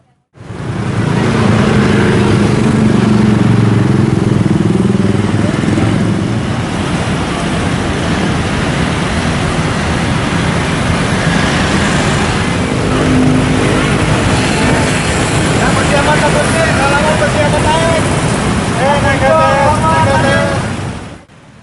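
Traffic rolls through a busy intersection at Jalan Kolonel Sugiono in Banjarmasin, a loud, continuous roar of passing vehicles with engine surges and a few horn-like tones later, and voices talking over it.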